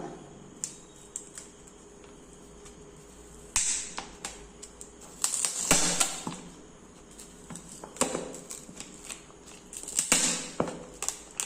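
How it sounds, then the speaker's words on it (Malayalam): A sticker is peeled off a frozen plastic bottle, producing close bursts of crackly tearing and crinkling, with quiet gaps between the pulls. "ഇനി നമുക്ക് ഈ സ്റ്റിക്കർ ഒന്ന് പൊളിച്ചെടുക്കാം"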